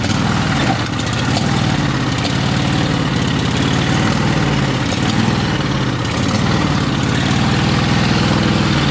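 A Craftsman lawn tractor's small engine runs loud and close with the choke on, a steady idling rumble that carries on without a break and without any talking.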